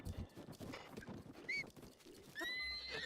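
A horse in Zelda: Breath of the Wild whinnies in a couple of high, wavering neighs, mixed with clip-clopping hooves and rustling movement nearby.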